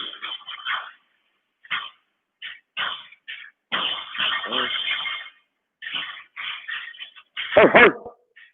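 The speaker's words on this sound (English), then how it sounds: "What does your dog bark sound like a little bit?" A dog barks in repeated bursts with brief pauses, sounding thin and narrowed as if coming through a phone or stream during a live home workout.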